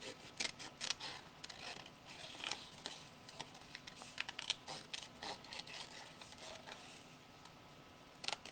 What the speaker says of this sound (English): No, I'll just cut the butterfly out.